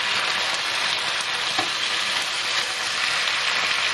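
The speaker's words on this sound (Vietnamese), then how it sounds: "Xào cho nấm thấm gia vị." Mushrooms and tofu stir-frying in a hot pan for a vegan noodle dish, giving a steady, close hiss of sizzling oil with faint scraping as the ingredients are tossed.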